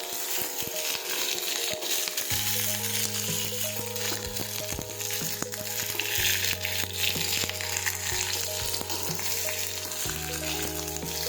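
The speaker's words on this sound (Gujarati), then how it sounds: "આપણા મરચાં તળાઈ ગયા ત્યાં સુધી આપણે આ રીતે સાંકળતા રહીશું।" Chili peppers fry in hot oil in a pan for a Gujarati sambharo, a steady sizzle running throughout with occasional scraping and stirring sounds and no talking.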